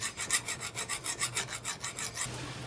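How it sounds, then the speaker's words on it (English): A metal hand file rasping a sheared bolt flat inside an engine, about a dozen steady back-and-forth strokes, close and fairly loud, with no voices. "I'm filing that bolt flat, just with a metal file"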